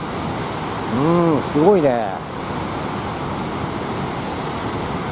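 Water released from a dam spills over a weir and throws spray in strong wind, making a steady broadband rushing roar that fills the whole clip, with a brief exclamation from a voice partway through.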